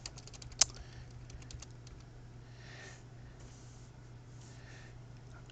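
Quick bursts of typing on a computer keyboard come in short clusters of soft clicks with one sharper key strike early on. Quieter, sparser tapping follows against a low hum.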